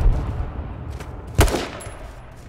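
Gunfire in the video game H1Z1, a single sharp loud shot standing out from a rumbling low background, with a fainter earlier pop and distant noise around it.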